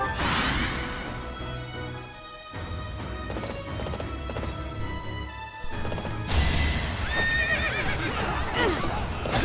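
A horse whinnies loudly amid clip-clopping hooves, crashes and swooshes during a battle in the video game Fire Emblem: Three Houses, with game music throughout.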